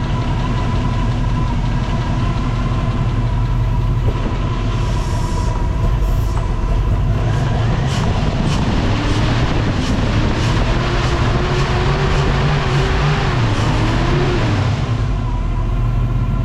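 An LS-swapped Trans Am runs with no mufflers, a loud, continuous engine drone that holds steady and fills the whole stretch, with the tone shifting slightly partway through.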